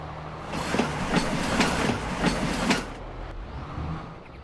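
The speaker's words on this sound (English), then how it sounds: "I just got hit by the train again." A train passing on the track in Farming Simulator 22, with rhythmic clickety-clack wheel beats over a steady rumble for about three seconds before it fades into softer noise.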